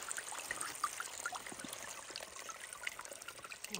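Faint water trickles and dribbles steadily from a spring among trees near a clogged woodland culvert, a soft, quiet flow with no voices.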